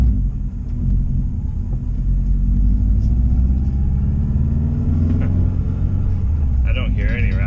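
A Subaru Legacy/Outback RallyXT with a louder HKS downpipe exhaust rumbles steadily on a test drive, a deep continuous engine drone heard from inside the car, with a brief voice near the end.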